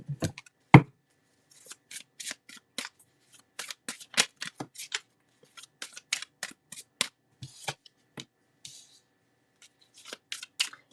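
Tarot cards are shuffled by hand close up, giving a long run of crisp, irregular flicks and slaps, some quick bursts and some isolated snaps, with no talking.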